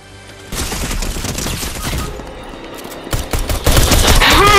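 A spam weapon fires rapidly in Fortnite, a dense, loud burst of gunfire that builds toward the end with no speech over it.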